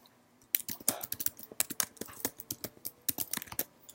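Fingers type a username and password on a computer keyboard, a close, brisk run of sharp key clicks in quick irregular bursts with no talking.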